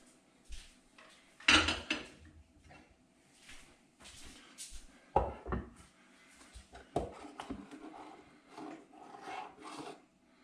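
Courgette, parmesan and basil soup ladled from a pan into a bowl, with metal ladle scrapes and clinks against the pot and dish, a few louder knocks amid quieter stirring and sloshing, close and with no talking.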